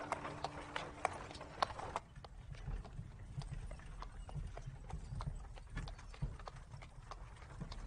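Horse hooves clip-clop in a steady walking rhythm, a string of sharp, moderately close knocks repeated evenly under a quiet background.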